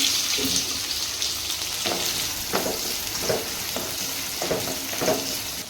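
Sliced onions frying in about three spoons of oil in a pan, a continuous close sizzle with occasional soft stirring scrapes.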